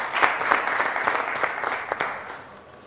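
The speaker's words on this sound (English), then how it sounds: "Let's give them a huge round of applause" A studio audience at a televised school quiz show applauds with dense, steady clapping that gradually thins out toward the end, heard close and fairly loud.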